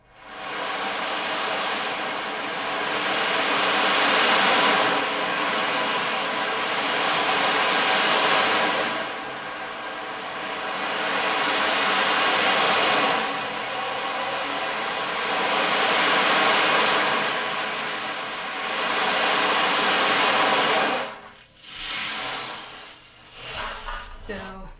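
Beads rolling inside an ocean drum, shaken faster to imitate crashing ocean waves in a sound class: a loud, steady hiss that swells and recedes in long surges, ending with softer, broken rattling.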